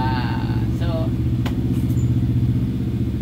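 A Yamaha Y15ZR motorcycle tuned with a 57mm jack rod holds a loud, close, steady idle-like engine drone with a throb, while someone speaks over it.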